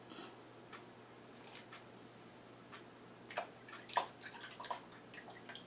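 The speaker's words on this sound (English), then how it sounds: "I like to dip it in the water to get all the white stuff off and anything that I don't want to eat off" Cooked lobster meat gets dipped and swished in a bowl of water: faint, sparse drips and small splashes over a quiet room hum, with a few sharper wet clicks near the end.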